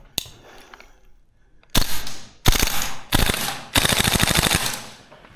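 A VFC URGI V3 gas blowback airsoft rifle fires in rapid bursts of clacking shots, four strings of increasing length after a lone early pop, loud and close.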